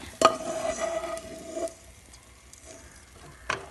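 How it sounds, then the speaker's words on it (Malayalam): A spoon scraping and scooping fried sardine masala out of a pan into a vessel, with a sharp clink at the start and another near the end, faint sizzling beneath, no talk. "ഇനി നമുക്കതൊന്ന് കോരി മാറ്റാം പാത്രത്തിലേക്കൊക്കെ കോരി മാറ്റുന്നുണ്ട് ഞാൻ"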